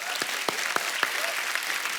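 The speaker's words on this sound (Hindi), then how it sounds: "पहले तो इस बात के लिए तालियां होनी चाहिए" Studio audience applause on a comedy talk show, bright crowd clapping with a few sharp, louder claps standing out in a quick irregular rhythm.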